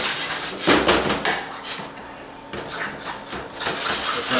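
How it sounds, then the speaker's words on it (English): A regular non-stick kitchen pan clatters and scrapes while BBQ chicken cooks, loud close metallic knocks and rattles with sizzling hiss running throughout, no talk. "I'm using just a regular non-stick kitchen pan."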